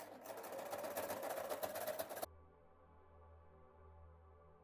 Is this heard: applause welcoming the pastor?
no